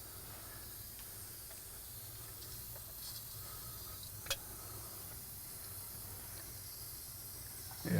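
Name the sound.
compressed air leaking past broken piston rings into crankcase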